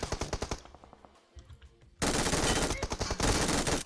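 Gunfire in the mobile battle royale game PUBG Mobile: bursts of rapid automatic shots, then a loud sustained volley of close, dense firing that fills the second half.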